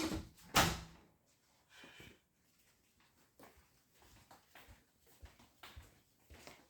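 A door is handled on the way out: one loud, sharp knock or bang near the start, then quieter thumps, shuffles and footsteps in an otherwise hushed room.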